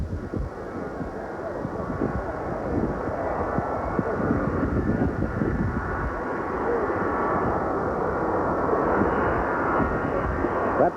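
A jet airliner approaching Love Field in Dallas, a broad, steady engine roar that holds strong and close across the whole stretch, with faint radio-like crackle mixed in.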